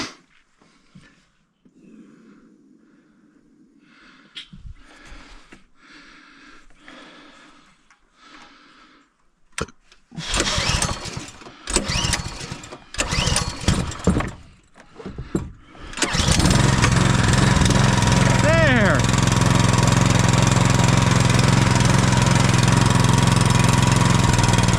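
A Duramax 212cc bi-fuel small engine sputters and coughs through several start attempts, then catches and runs loud and steady at high RPM, a continuous close roar.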